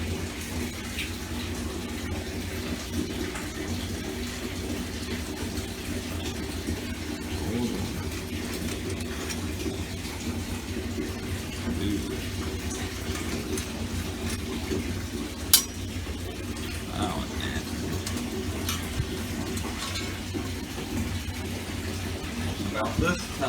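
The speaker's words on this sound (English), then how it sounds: "put everything into the bath water" Metal trumpet parts, including valves and bottom caps, are lowered into a bath of water, giving a steady wash of running water with a few faint clinks and one sharp knock midway. Talk runs quietly underneath.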